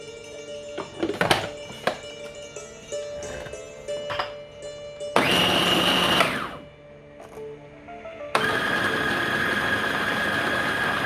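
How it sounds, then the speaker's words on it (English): A food processor whirs as it mixes egg and minced meat. A loud motor runs in two bursts, with clinks and handling noises beforehand. "Everything directly goes into the food processor."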